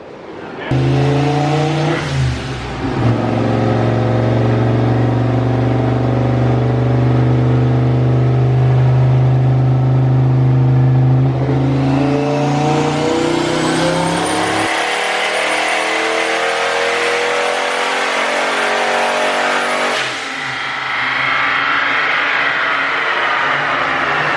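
A turbocharged car engine held at a steady loud drone while being tuned, then climbing in a long rising rev before settling back, close and dominant throughout.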